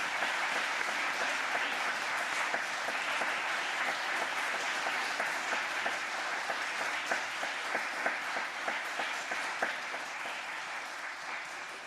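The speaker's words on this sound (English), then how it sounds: "can we just have a round of applause and gratitude for those who shared today?" A large crowd applauds warmly, dense clapping holding steady for several seconds before slowly tapering off.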